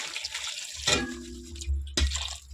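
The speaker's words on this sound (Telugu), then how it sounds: "ఇప్పుడు వాటర్ పోసేసుకుందాము" Water is poured over cut vegetable pieces in a pot for Andhra-style sambar, heard as two short close splashing pours separated by a brief pause.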